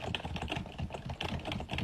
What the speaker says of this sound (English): Okay, she's typing.